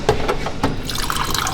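Ice-cold water poured into a glass in a luxury hotel gym, a brief close splash and trickling fill with light drips.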